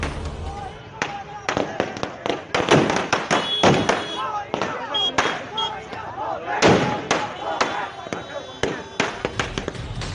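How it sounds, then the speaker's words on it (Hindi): Firecrackers set off by a crowd celebrating on a beach road, with many sharp pops and bangs in rapid irregular clusters over ten seconds, loud and nearby, with crowd voices mixed in. "बीच रोड पर सैकड़ों लोग खड़े होकर पटाखे फोड़कर जश्न मना रहे हैं।"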